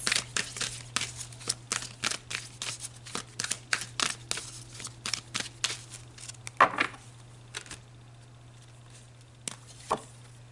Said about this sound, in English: let's pull a few more cards